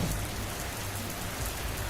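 Heavy rain pours on a stormy night, a dense, steady hiss of downpour that fills the whole stretch evenly and loudly, with no voices over it.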